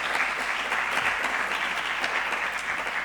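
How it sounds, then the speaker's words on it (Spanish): Listeners at an occupational therapy conference panel give steady, even applause, a dense continuous clapping from a seated crowd with no break. "Nos vamos a dar un aplauso"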